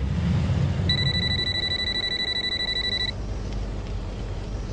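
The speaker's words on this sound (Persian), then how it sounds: "تلفنات رو گیر، زودتر جواب ده." A telephone rings with a steady electronic tone for about two seconds over loud background noise and stops abruptly. No one speaks during it.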